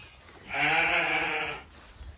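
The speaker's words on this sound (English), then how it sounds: "feed the cats and the sheep" A single drawn-out sheep bleat, about a second long and fairly close, rising out of quiet background and fading away.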